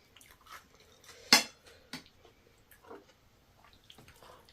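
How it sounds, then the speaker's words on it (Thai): A spoon scooping more chili paste from a dish gives a few soft clinks and scrapes, with one sharper metallic clack in the middle, quiet and close with light eating sounds around. "ขอตักเพิ่มอีกสักนิด"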